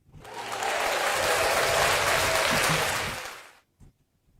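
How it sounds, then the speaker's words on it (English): Loud, sustained applause from a crowd, swelling quickly and holding steady for about three seconds before fading out. "Can I get a round of applause for the residents of Atlanta?"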